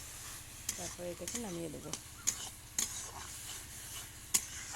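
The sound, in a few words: stirring baingan bharta in a pan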